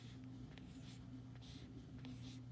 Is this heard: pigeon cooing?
no